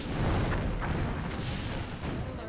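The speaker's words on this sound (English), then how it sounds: "here come their torpedoes" Heavy, continuous rumbling barrage of torpedo impacts and explosions in a Star Trek starship battle game, loud and dense throughout with no talking.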